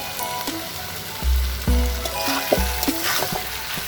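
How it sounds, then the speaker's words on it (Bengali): Potatoes sautéed in a pan with small lentil dumplings give a crackling sizzle, broken by several louder stirring scrapes and clatters, close and fairly loud, with no speech. "এভাবে আলুটা দেওয়ার পর অনেকক্ষণ একটু কষিয়ে নিব"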